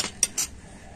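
Two short metallic clinks of a spoon against a bowl while raw banana fritter batter with chopped coriander and ginger-green chilli paste is mixed, with a quiet pause between strokes.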